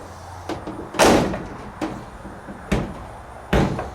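A 1973-87 Chevrolet C10/K10 pickup door is opened and shut several times, giving sharp, close thuds and latch clunks with brief quieter clicks between them, heard alone.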